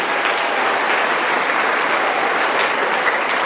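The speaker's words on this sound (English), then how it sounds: "Can we get a round of applause for the Pelicans?" A crowd at a high school player draft event applauding the Pelicans team, a steady loud wash of clapping sustained for the whole stretch, no talk over it.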